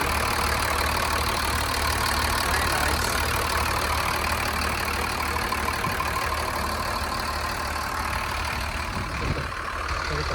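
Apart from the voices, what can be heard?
Mercedes engine idling in a 2004 Thomas FS65 school bus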